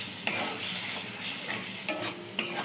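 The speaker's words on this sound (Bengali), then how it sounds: "পেস্টটা এবার ভালো করে এবার কষাবো।" Tomato, green chili and ginger paste stir-fried in a wok, with a steady sizzle under scraping spatula strokes and a few sharp clacks of the utensil against the pan, close and moderately loud.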